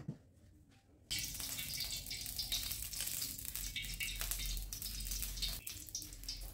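Ingredients for street-style nasi goreng frying in oil on a home stove, a steady loud sizzle that starts abruptly after a quiet moment and continues with crackles and occasional clinks.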